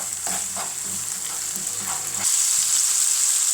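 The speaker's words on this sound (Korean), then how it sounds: "먼저 베이컨을 볶아주시고요" Bacon fries in a pan with a loud steady sizzle, under a few soft rhythmic stirring scrapes that stop as the hiss grows slightly louder, with no talking.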